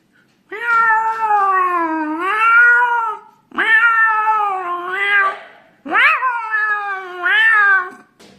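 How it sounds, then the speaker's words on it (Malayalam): Fighting cats give three long, wavering yowls, loud and close, each rising and bending in pitch with brief gaps between, with no other sounds around them. "ഈ പൂച്ചകൾ തമ്മിൽ കടിപിടി കൂടുമ്പോൾ എങ്ങനെയാണ് കരയുന്നത് നോക്കാം"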